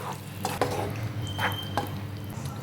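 A spoon scrapes and stirs okra masala in a pan after water is added, giving soft scraping strokes and occasional clinks over a steady low simmering hiss.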